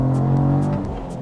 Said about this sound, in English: That's how good the engine sounds